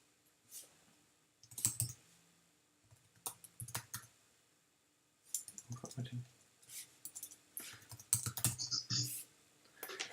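Computer keyboard typing comes in uneven bursts of close, crisp key clicks separated by short pauses, with a voice speaking faintly at times.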